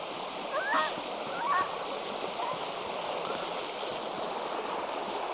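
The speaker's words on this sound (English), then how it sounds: "And that's the river. Beautiful," A clear river flows in a steady, soft wash of running water, heard from a campsite on the bank, with a couple of faint bird chirps early on.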